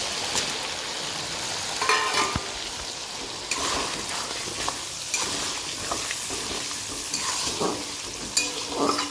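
Dried fish curry with chili, garlic, tomato and onion frying in a pan, a steady faint sizzle with intermittent scraping stirs and clinks of a spoon, no talking.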